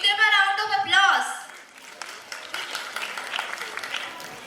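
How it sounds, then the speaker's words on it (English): Audience applause for prize winners at a school annual day; a voice is heard briefly at the start, then steady clapping from the crowd carries on at moderate volume to the end. "Give them a round of applause."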